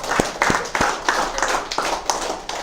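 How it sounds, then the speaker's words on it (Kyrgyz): A group of people clap their hands at a gathering, several distinct sharp claps with an uneven rhythm, fairly close and moderately loud. "Кол чаап койсок болот"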